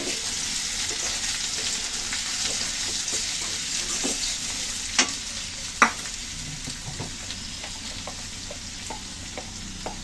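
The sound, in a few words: onion frying in oil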